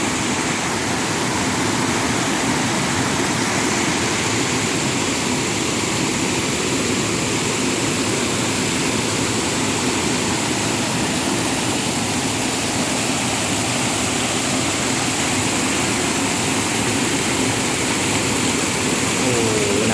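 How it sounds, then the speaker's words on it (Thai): A forest waterfall roars as a steady, dense wash of falling water, loud and unbroken throughout with no pauses. "คลิปนี้พาเพื่อนมาเที่ยวน้ำตกนะครับ เข้าป่ากันหน่อย มาฟังเสียงน้ำ"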